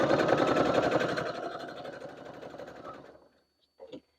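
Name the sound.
sewing machine stitching binding onto fabric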